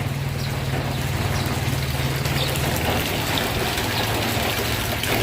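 Steady rain falling outdoors, a dense, even hiss with a low rumble that holds constant throughout, loud and close with no voices.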